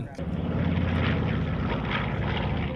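A World War II propeller airplane such as a B-25 or P-51 flies past at an airshow, a steady droning engine roar with a low throbbing hum that stays loud and continuous.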